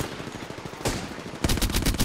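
Rapid automatic gunfire in Apex Legends, loud, close bursts of shots with a brief pause, then a denser volley toward the end, no speech over it.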